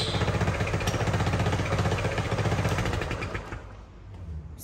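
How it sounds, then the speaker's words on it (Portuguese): Yamaha Factor motorcycle with a leaking, blowing exhaust idles nearby with a steady, loud putter, then the sound softens slightly toward the end. "O escape dela tá com barulho feinho."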